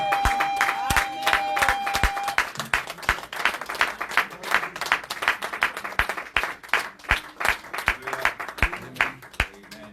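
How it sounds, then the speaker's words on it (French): A church congregation claps and cheers to welcome the pastor, with steady, dense applause filling the room throughout and a few louder claps rising out of the crowd. "Nous acclamons très fort pour le Seigneur."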